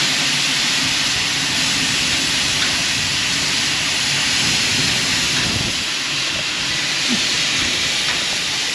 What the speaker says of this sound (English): Here comes the old train